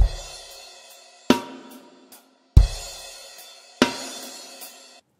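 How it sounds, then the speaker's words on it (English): Crash cymbals struck on a drum kit in a beat, four loud washy crashes with kick hits, each ringing and decaying before the next, close and alone without speech. "You can hear the crash cymbals playing the..."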